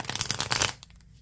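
A Darkside Skeleton Tarot deck being shuffled up close, a quick flurry of riffling card snaps for about a second that drops off into quiet.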